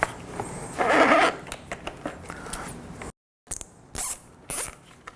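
A plastic zip tie ratchets through its lock while fastening an upgraded battery box on a KTM 250/450 SX-F dirt bike, giving a burst of close, raspy zipping followed by a pause and several shorter pulls.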